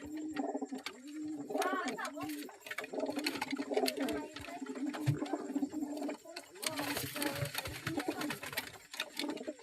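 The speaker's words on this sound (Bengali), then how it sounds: "এই ইম্পোর্টেড কবুতর" Imported pigeons coo repeatedly at close range, with low throaty calls rolling through the clip while someone talks over them almost throughout.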